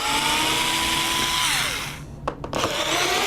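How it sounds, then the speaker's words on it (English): A power tool runs steadily while backing out the panel screws during a battery replacement, its pitch dropping as the motor winds down, then a few short clicks and knocks as the tool and screws are handled. "when you're removing it, it doesn't really matter which order you're removing the screws in"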